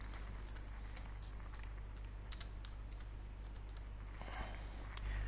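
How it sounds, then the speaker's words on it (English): Close, steady typing on a computer keyboard, a run of quick light key clicks over a constant low electrical hum. "Here you can type the employee name,"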